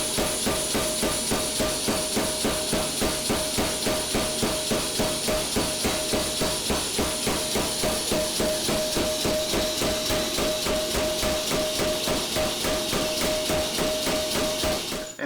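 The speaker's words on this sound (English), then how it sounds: "that cycles up and down with a pneumatic cylinder that's inside the hammer right here" A pneumatic blacksmith's power hammer pounds in a fast, steady rhythm, each stroke a sharp thump with a hiss of air, continuous and close.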